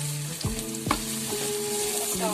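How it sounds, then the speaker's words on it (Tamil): Onion frying in a pan gives a loud, close sizzle, broken by a couple of sharp stirring scrapes against the pan. "ஆனியன் ஃப்ரை பண்ணிக்கலாம்"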